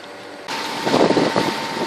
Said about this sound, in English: There's a boat coming down the other way.